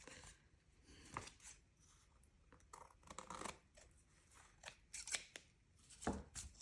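Scissors snipping through scrapbook paper while trimming a small piece off a double flip pocket page, crisp close cuts in short irregular bursts with quiet pauses between.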